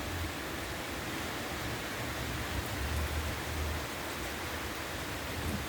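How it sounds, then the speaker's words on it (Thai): Steady, dense rainfall hissing evenly throughout, a constant wash of water with no pauses. "ปีนี้ฝนมาเร็วมากครับ"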